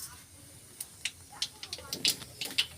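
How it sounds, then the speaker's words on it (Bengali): Black cumin seeds dropped into hot oil before frying pointed gourd, crackling in short, sharp pops over a faint hiss, moderately quiet and close. "তেলের উপরে কালো জিরে দিয়ে দিয়েছি"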